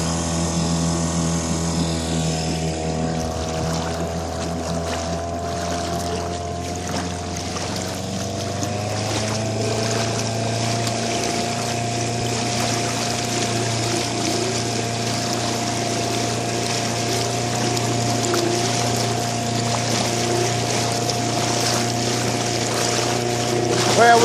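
Small boat's outboard motor, just unchoked, runs loud and close with a steady mechanical drone whose tone shifts and settles partway through.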